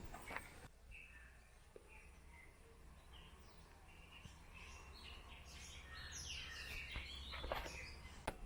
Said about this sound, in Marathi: एकदम शांतता निवार शांतता फक्त पक्ष्यांचे आवाज